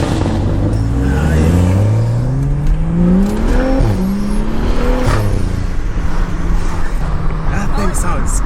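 A tuned Stage 2+ BMW engine revs hard close by, rising and falling in strong sweeps with crackling pops, while people talk over it.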